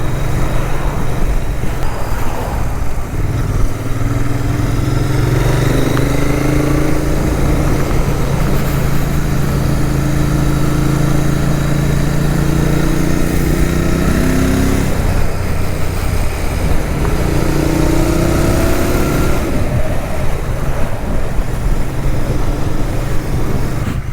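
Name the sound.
Royal Enfield Continental GT motorcycle engine running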